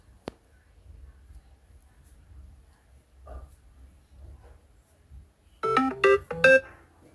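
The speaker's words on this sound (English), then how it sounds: "The notification sound for custom sound alert has been changed" A Samsung Galaxy S23 Ultra plays a custom notification alert: a bright cluster of quick melodic chimes near the end, after faint clicks and near silence.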